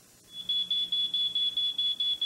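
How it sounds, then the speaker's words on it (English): A smoke detector sounds a shrill, high-pitched alarm in rapid repeated pulses, loud and close, starting abruptly after a brief quiet moment. "This is the sound of a smoke detector."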